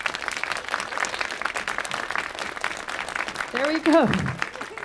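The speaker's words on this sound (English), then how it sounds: "So if you wouldn't mind just clapping." An audience at an interview with the Hopscotch founder claps together to make a parrot move in a coding game, a dense ongoing wash of applause with someone speaking over it.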